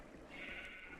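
A sheep bleats in a barn in a Minecraft-style game, one faint drawn-out bleat of about a second, heard alone without speech.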